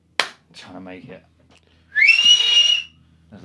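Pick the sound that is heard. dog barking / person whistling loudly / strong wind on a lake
person whistling loudly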